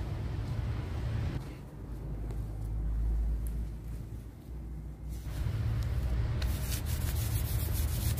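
Hands rubbing kinesiology tape down onto an ankle wrapped for a sprain, a continuous close friction hiss that swells and eases over several seconds, with no talking.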